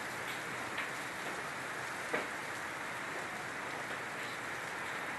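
Steady rain falls outside, a dense, even hiss of drops on surfaces with an occasional louder drip or spatter, continuous and moderately close, with no voices.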